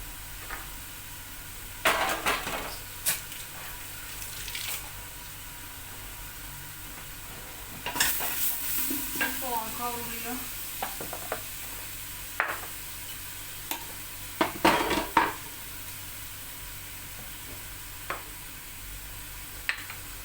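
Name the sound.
sautéing grated tomatoes with peppers in a pan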